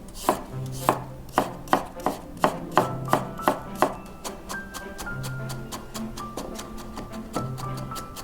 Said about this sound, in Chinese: 15颗大蒜切成蒜末备用。